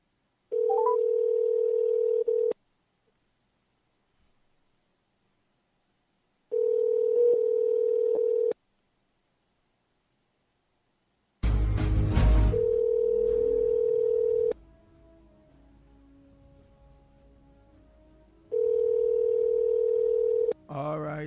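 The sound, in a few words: telephone dialing tones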